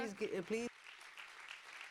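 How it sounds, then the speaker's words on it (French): A forum audience claps quietly and steadily after a brief spoken introduction, the applause soft and distant through the rest of the moment. "Merci de l'applaudir."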